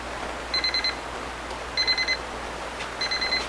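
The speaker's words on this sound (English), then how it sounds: "Listen for the beep, open it up, and your pizza is finished." A Breville Smart Oven Pro countertop oven timer beeps in three short bursts of rapid high-pitched pips, evenly spaced, over a quiet room hum.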